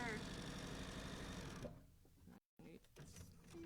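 A sewing machine stitching quilt binding runs in a steady, close whir that stops partway through, followed by quieter handling sounds and a brief gap.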